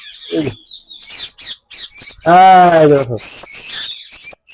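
Ringneck parakeets and lovebirds calling at a bird farm, with loud close squawks and a long harsh screech among shorter chirps, in an uneven, jumbled run.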